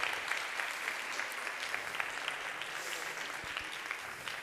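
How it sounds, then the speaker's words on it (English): A conference crowd at a nomads event gives another round of applause for a speaker, a sustained, moderately loud wash of many hands clapping that fades slightly toward the end, with no talk over it. "Another round of applause, please, because it was amazing"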